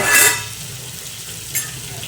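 Beetroot and carrot fry in a pan, a soft steady sizzle with two brief scraping stirs of a spatula, one near the start and one near the end.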